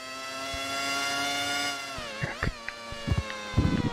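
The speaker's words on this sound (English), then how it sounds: "I'm revving a bit" A Formula One car engine revs in the Dreamcast racing game F-1 World Grand Prix II, a steady high-pitched whine that shifts and dips with several short bursts of revving near the end.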